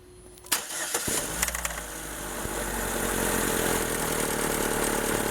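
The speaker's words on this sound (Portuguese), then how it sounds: "Pessoal, olha o barulho do carro." A Chevrolet Spin with a reported engine noise when accelerating starts up with a short crank and catch, then settles into a steady, close idle that grows slightly louder, with no talk.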